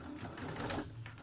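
A sewing machine stitches two rows along the seam of an upcycled fabric grocery shopping bag, running steadily and fairly close at a low level for a brief stretch.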